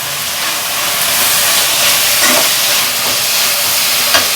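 Green chilies dropped into hot frying oil for a chicken biryani, a loud, steady sizzle and hiss close by with no talking.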